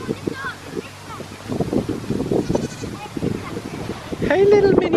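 Small goats bleating on a farm, several short wavering bleats near the mic mixed with wind noise and people chatting close by.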